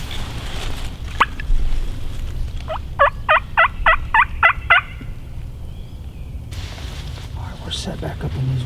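Wild turkey gobbling in Massachusetts woods on opening day of hunting season: a single rapid burst of about seven loud, rattling notes, preceded by a sharp isolated call, with quiet woodland ambience and soft rustling around it.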